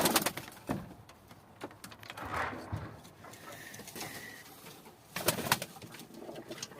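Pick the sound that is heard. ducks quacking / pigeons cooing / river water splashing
pigeons cooing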